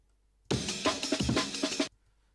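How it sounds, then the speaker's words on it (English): An unfiltered amen break drum loop plays alone for under two seconds, with dense, full-range kick, snare and cymbal hits in a quick syncopated breakbeat, starting and stopping abruptly. "So without that auto filter on, this amen would sound like this."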